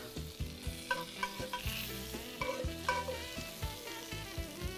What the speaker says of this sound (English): So we're getting the fat rendered out of this bacon right now